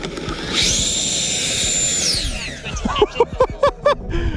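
A small RC jet engine whines loudly at a high pitch, then spools down under thrust reverse, followed by a series of short sharp bursts and pops near the end.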